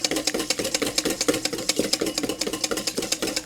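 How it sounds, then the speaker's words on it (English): A stainless steel whisk beats egg yolks in a stainless steel bowl: a fast, steady metallic ticking that repeats evenly and fairly loudly, with no talking. "In the meantime, you want to whisk those yolks."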